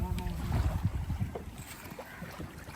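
A motor boat's engine thrums low and steady out on the sea off Pasikuda, Sri Lanka, with wind and water hiss over the chugging.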